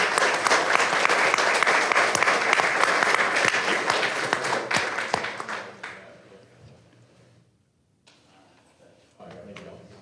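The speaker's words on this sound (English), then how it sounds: "Give these folks a round of applause" Applause breaks out at a city council meeting in Greer, South Carolina, as a full burst of many hands clapping that fades over several seconds into quiet room sound with a few voices.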